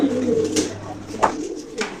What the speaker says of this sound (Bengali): তখনই কিন্তু এই সাদা কবুতরটা ডাকাডাকি শুরু করে দিছে